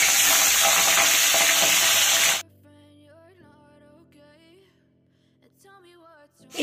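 Pabda fish fries lightly in oil in a pan, a loud dense sizzle for about two seconds that cuts off abruptly, leaving near silence with a faint voice and tones.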